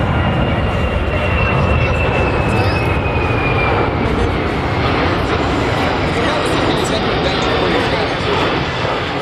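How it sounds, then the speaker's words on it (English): C-17 transport aircraft in a flying demo at Beale AFB, a loud, steady jet engine roar filling the whole stretch as its landing gear retracts, with a commentator talking over it. "And this is what we call the transformer maneuver. As the landing gear goes up."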